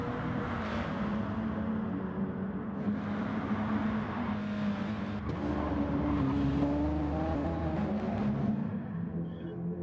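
Race cars in an esports racing video game, one car passing its teammate, with a steady, loud engine drone and shifting revving pitch throughout, no talk.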